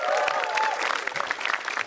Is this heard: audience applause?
yes